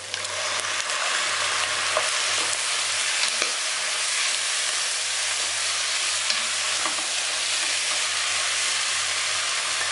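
Tomatoes hitting a hot frying pan while cooking kawareh (cow trotters), a loud, dense, continuous sizzle and hiss with a low steady hum beneath, no voices.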